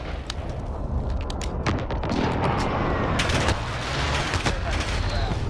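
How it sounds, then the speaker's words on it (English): Precision airstrike explosions in Call of Duty: Modern Warfare multiplayer: a dense, loud barrage of blasts and gunfire crackles continuously, with heavy rumbling impacts layered throughout, while a voice talks over it. "Friendly precision airstrike inbound."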